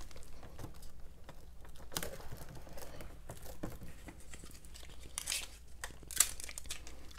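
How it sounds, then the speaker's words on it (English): Scotch tape is handled with soft crinkling and rustling, faint and close, with a couple of brief sharper peeling bursts near the end and no talking. "you've got to tape it down. And I'm just gonna use good old Scotch tape,"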